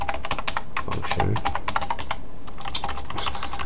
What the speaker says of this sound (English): I said function, so I started typing it